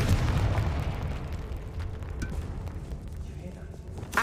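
A Confringo fire spell from Hogwarts Legacy erupts in a loud, low rumbling blast at the start, then decays into a long, gradually fading roar with scattered crackles, ending in a brief sharper burst.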